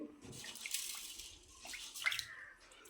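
Water poured over two cups of rice in a vessel for soaking, with splashy, gurgling bursts close by, no talking.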